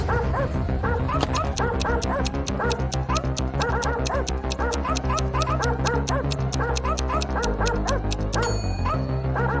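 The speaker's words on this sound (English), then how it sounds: "Barking, it ran after Eve." A robot dog barks in a sound effect: electronic yips and barks repeat in a fast, steady rhythm, loud and continuous throughout, ending in a brief tonal flourish.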